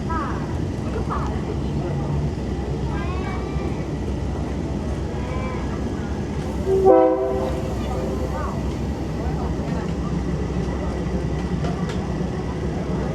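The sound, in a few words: train climbing a hill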